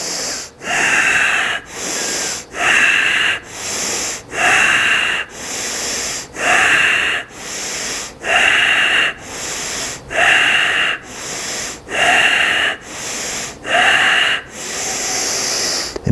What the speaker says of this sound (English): deep breathing. Here we go.